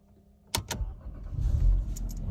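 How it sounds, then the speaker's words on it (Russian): A Mercedes is started with a freshly cut duplicate key: two sharp clicks as the key turns, then the engine catches and settles into a low, steady running rumble close by. "Автомобиль завелся."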